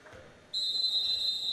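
Referee's whistle at a high school basketball game, Nicholas County Grizzlies versus Independence Patriots: one loud, sustained shrill blast cuts in abruptly over faint gym background and holds to the end.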